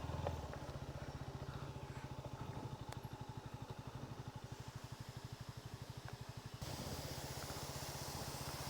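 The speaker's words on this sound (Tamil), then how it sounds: "வண்டி ஸ்டார்ட் ஆக மாட்டேங்குது, என்னன்னு தெரியல." A Royal Enfield Himalayan motorcycle with a starting fault cranks over and over without catching, a faint rapid mechanical chugging running steadily for several seconds with hiss behind it.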